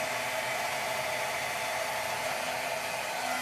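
A heat embossing tool blows a steady, loud, even hiss while melting embossing powder on stamped butterflies for a watercolor card, with no talk.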